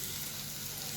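Garlic sautéing in a hot pan for a date-garlic pickle, a steady close sizzle throughout a brief moment, with no voices.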